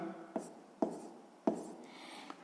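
Pen or pencil strokes on paper while writing down a sixth-grade maths answer, a few short scratchy taps spaced about half a second apart, close and quiet, with a faint rubbing stroke near the end.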